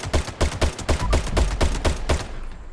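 A Furious Crusader Pistol firing in Fallout 76, about ten sharp shots in a fairly even, rapid rhythm, close and loud, each ending in a short crackling tail, with no voices.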